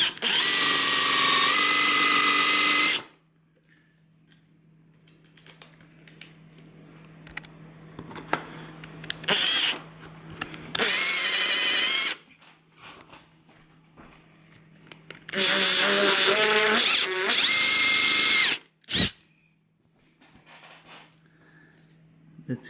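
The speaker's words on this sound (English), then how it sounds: "I'll just drill it a little bit more." A power drill whines loudly in long bursts while boring out a damaged screw head, stopping and starting several times with quieter pauses of faint handling noise between runs.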